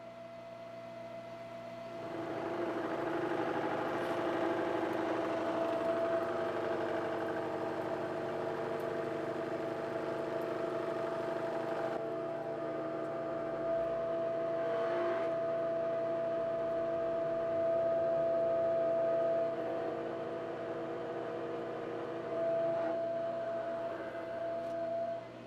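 A milling machine cutting metal at 500 RPM with a shallow depth of cut, a steady low motor hum with a sustained tonal whine, running continuously at moderate, even level.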